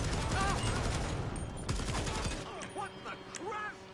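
Rapid gunfire from a new gun in the video game GTA, a dense burst of shots in quick succession that thins into scattered reports, with game sounds continuing afterward.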